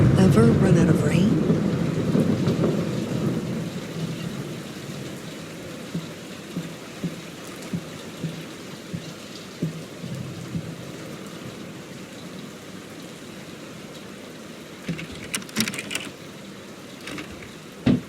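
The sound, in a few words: rain and thunderstorm in the video game Layers of Fear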